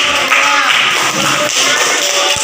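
A group of adults at an Indonesian school gathering gives dense, steady applause, loud and continuous throughout.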